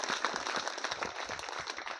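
A group of children at an inter college in Akbarpur clapping hard and fast, a dense, steady patter of hand claps close by with no talking.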